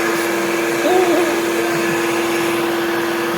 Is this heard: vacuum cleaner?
yes